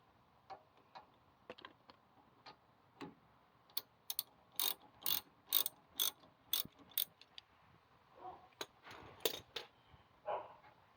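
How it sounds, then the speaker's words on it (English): A hand ratchet tightens brake caliper screws on a 2002 Ford F150, giving quiet sparse clicks and then bursts of rapid close ratcheting strokes in several short runs. "You screw it till it gets tight, and then maybe a little quarter turn more or so."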